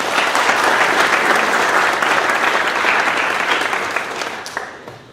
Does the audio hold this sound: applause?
yes